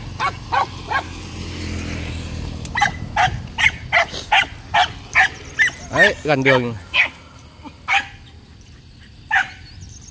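Hunting dogs bark near a road during a hunt, a run of sharp repeated barks and yips, some close and some farther off, with people talking over them.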